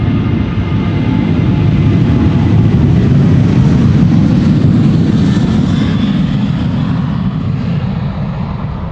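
A jet airliner with an unusual scorpion-tail livery departs Amsterdam Schiphol Airport, its engines producing a loud, steady, close roar that holds throughout, rich in low rumble and broadband hiss, fading slightly at the end.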